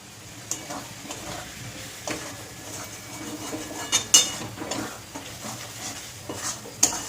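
Green chillies are stirred into dried fish frying in a pan, with a low steady sizzle and several sharp utensil clinks and scrapes against the pan, close by and without speech.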